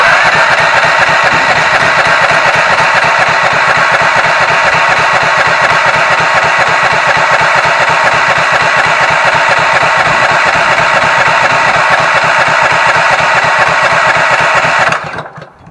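Ridgid generator powered by a Honda GX 390 engine running steadily, a loud continuous mid-pitched engine drone with vibration, holding constant before cutting off abruptly at the end.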